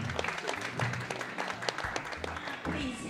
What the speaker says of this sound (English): Let's clap our hands together for Mom.